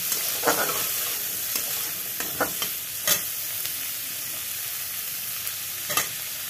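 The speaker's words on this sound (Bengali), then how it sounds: "তারপর এর মধ্যে দেবো টমেটো।" Tomato and capsicum fry in a pan with a steady broadband sizzle, broken by several sharp stirring scrapes and clatters, all close by with no talk.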